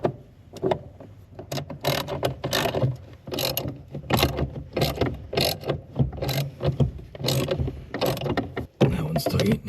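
A 1/4-inch drive ratchet turning on the brake power booster of a 1976 Corvette, rapid clicking strokes in quick irregular bursts, close and fairly loud, with no voices.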